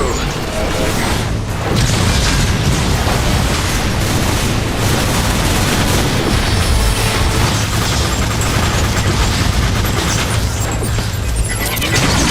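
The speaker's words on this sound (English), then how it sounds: "Decepticons are firing grenades!" Grenade blasts and heavy combat in Transformers: War for Cybertron come as a dense, loud barrage of booms and crashes with mechanical clatter, running continuously while voices shout over the battle.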